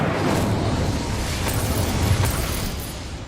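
The Incendio fire spell cast in the video game Hogwarts Legacy: a broad roaring whoosh of flame that holds steady and loud, with a couple of sharp crackles near the middle before it eases slightly.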